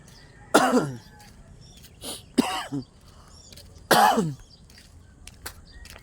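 Three harsh coughs ring out close by, separated by short pauses, with a softer throat-clearing sound between them.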